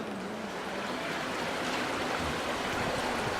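Water splashes steadily into the basin of a historic stone fountain in Bern, a continuous broadband rush heard close and fairly loud with no voices.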